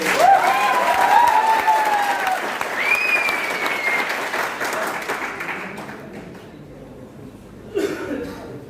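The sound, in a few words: audience clapping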